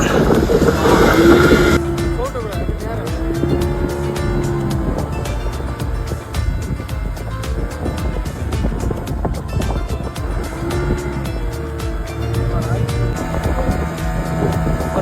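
A motorboat engine drones steadily over open sea off Pondicherry, with wind and splashing around it, loud and close throughout.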